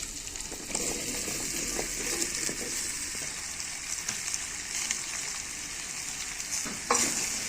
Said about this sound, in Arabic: هقلب بقى التومه مع الكوسه كده اهي